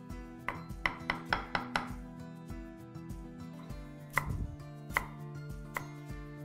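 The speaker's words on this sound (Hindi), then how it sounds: "अगर चाहे ना तो इसको ऐसे क्यूब्स में भी काट सकते हैं।" A knife chops vegetables into cubes for hot and sour veg soup, with a quick run of sharp cutting-board taps followed by slower, spaced single chops, close and clear.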